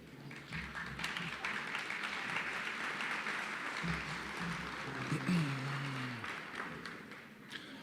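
Audience at a Better Business Bureau Torch Awards for Ethics event in Dayton, Ohio applauds steadily to approve the year's board slate, a sustained wash of clapping from a large room, with a faint voice murmuring underneath partway through.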